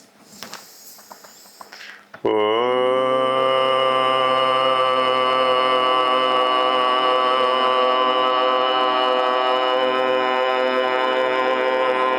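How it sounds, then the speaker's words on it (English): A group chants a single long Om during guided meditation, a steady resonant drone that starts abruptly after brief quiet and holds loud and even for about ten seconds. "From this place we chant Om together one time."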